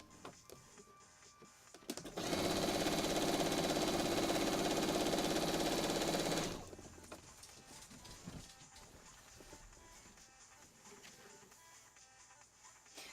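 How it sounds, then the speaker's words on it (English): A sewing machine stitches quilt binding with a quarter-inch seam, running as one steady, loud, buzzing whir for about four seconds before stopping abruptly, with quiet handling noise before and after. "I'm going to start sewing about a half of an inch from the end. And I'm sewing this on with a 1/4 inch seam"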